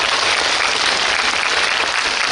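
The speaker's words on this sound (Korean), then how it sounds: "박수 부탁드립니다." A theater audience at a CGV star live talk for the film Ansiseong claps in steady, dense applause that holds at an even level throughout, with no voices over it.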